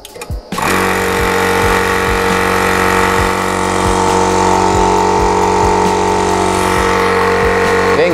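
An air compressor kicks on to fill an air rifle, rising quickly to a loud, steady mechanical drone with regular low thumps that continue to the end.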